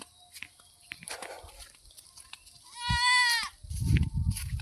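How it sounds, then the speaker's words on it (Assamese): A goat gives a loud, wavering bleat in the middle, surrounded by quieter rustling and faint background noises outdoors in a home garden. "এইবিলাক ছাগলী চৰি আছে।"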